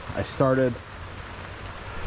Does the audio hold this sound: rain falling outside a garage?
yes